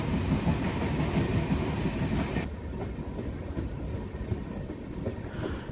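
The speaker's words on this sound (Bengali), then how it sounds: "আমাদের ট্রেন এখন জঙ্গলের ভেতর দিয়ে ছুটে চলেছে।" The 13149 Up Kanchankanya Express runs through jungle with a steady, loud rumble of wheels and carriages and a rhythmic clickety-clack, dropping to a somewhat quieter roll partway through. No voices are heard.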